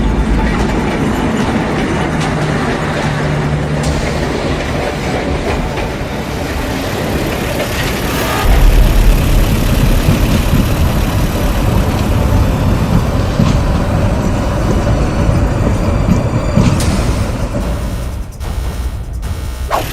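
Economy trains and KRL commuter trains run on a double-track railway, with loud, continuous rumbling and wheel clatter rolling steadily past at close range. Toward the end the roar briefly dips before swelling again.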